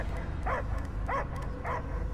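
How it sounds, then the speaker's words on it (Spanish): A dog barks three times at an even pace in the video game Marvel's Guardians of the Galaxy, with short, clear barks over a low game ambience. "Yo solo oigo ladridos"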